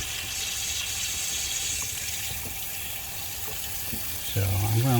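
Water flushing through the heater core of a 1989–98 GMC K1500 pickup, a steady rushing hiss of flow that runs throughout and grows louder and fuller near the end.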